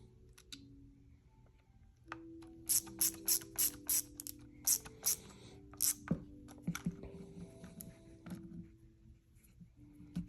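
Quiet ratcheting clicks from a small torque wrench snugging screws on a Live Free Armory Apollo 11 build, a loose run of sharp clicks in the middle with softer mechanical handling before and after, no talking.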